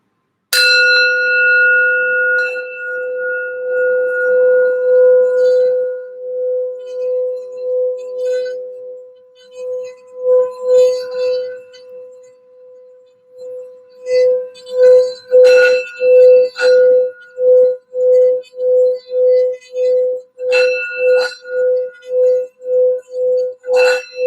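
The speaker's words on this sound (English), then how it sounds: "we're going to do a quick little sound bell here just for some grounding for the reading and general healing" A bell struck for grounding and healing during a tarot reading rings out clear and alone, one long sustained tone fading slowly, then a series of quicker repeated strikes builds toward the end, growing louder.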